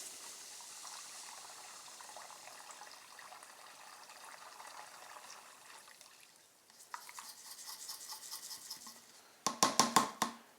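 Thoro-Flush radiator cleaner is poured into a 2009 Ram 1500 radiator, starting as a soft steady trickle and then turning to gurgling glugs and a burst of loud sloshing splashes near the end.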